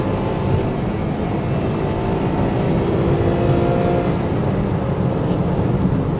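Honda Integra Type R DC2 with a B18C6 engine pulling hard as it is shifted straight into third at around 50 mph, a steady, loud broadband engine roar sustained throughout without any talk.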